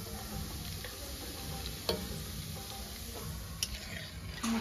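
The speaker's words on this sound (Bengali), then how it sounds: "সাবধানে ওই এলাচগুলো ফোটে। সব ফাটিয়ে দিলাম।" Cardamom pods and whole garam masala spices crackle in smoking-hot oil in a home kitchen, a steady close sizzle broken by a few sharp pops.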